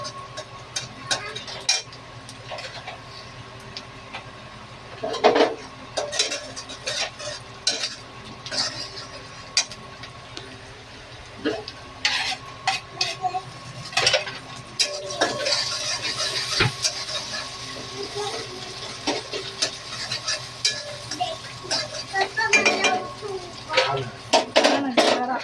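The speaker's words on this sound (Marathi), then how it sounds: "बघा कांदा आपला थोडा थोडा असा फ्राय होत आहे" Onion and then tomato frying in a pan, stirred with a utensil: intermittent scraping and clinking of metal against the pan over a low sizzle, close by, with someone talking over much of it.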